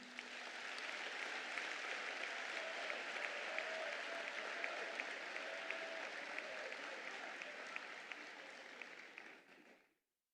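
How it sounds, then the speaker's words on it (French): Sustained warm applause from a large audience at an extraordinary PDCI-RDA party congress, steady and full for about ten seconds before cutting off abruptly. "Je vous demande de les applaudir chaudement."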